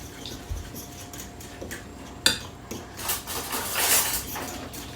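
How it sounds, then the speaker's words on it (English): A spoon stirs apple cinnamon muffin batter in a bowl, producing irregular clinks and scrapes against the dish, some sharper knocks standing out close by. "Just going to give this a quick stir"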